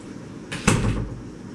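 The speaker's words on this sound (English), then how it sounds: "Close the door." A door pushed shut indoors gives a soft whoosh and then a single dull thud, close by and alone, with no talking.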